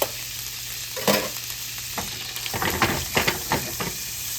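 Butter and brown sugar for bananas Foster cooking in a pan, a steady hiss and sizzle with scattered scraping stirs, close by and with no voices.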